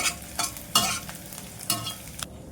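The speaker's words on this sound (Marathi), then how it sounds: "हे पण मध्यम गॅसवरतीच भाजायचा डिंक" Edible gum pieces frying in a pan over medium heat with a soft sizzle, punctuated by several scraping stirs of a spatula; close and fairly quiet, no voices.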